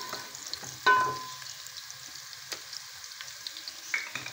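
Onions frying with spices in a pan for a lauki chana dal dish, giving a steady low crackling sizzle with a brief louder stir or clatter near the start and faint clinks throughout, no talking.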